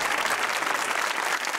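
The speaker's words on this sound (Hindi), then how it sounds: "इसके लिए तो तालियां बनती है।" Audience applause at a live comedy show with a band, a dense, steady wash of many hands clapping throughout, close and loud with no talk over it.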